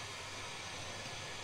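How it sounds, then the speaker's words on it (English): Steady equalized pink noise test signal for a reverberation time measurement, a continuous even broadband hiss played at constant level with no breaks. "Use the remote control to switch on the pink noise"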